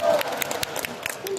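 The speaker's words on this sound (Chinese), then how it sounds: "我希望大家可以幫我大力咁樣拍手" A concert audience applauds at a live music show, a brief burst of scattered clapping with some crowd noise and a voice talking over it.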